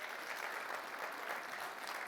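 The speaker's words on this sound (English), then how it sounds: "Give a round of applause for Detroit." Steady crowd applause at a summit in Detroit fills the whole stretch, a dense even wash of many hands clapping at moderate loudness with no voices standing out.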